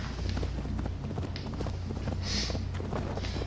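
Horse hooves clip-clop in a steady running rhythm from the video game Assassin's Creed Valhalla while the horse travels on its own, under a constant ambient game bed with no talking.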